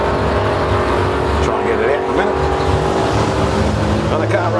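A Torana race car drag races down lane one against a turbocharged six-cylinder rival at a drag strip, a loud continuous engine roar with a crowd and a commentator's voice running over it.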